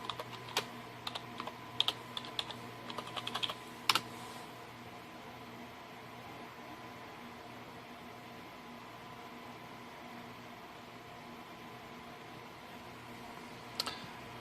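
Keyboard keys tapped in a quick irregular burst, a password entered on a computer keyboard beside a Windows server, then a long quiet stretch with steady fan hum and a single brief click near the end.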